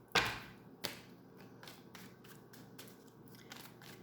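Tarot cards are laid out on a surface: a sharp snap, then a second, followed by a series of soft card slides and taps, quiet and close with no talking.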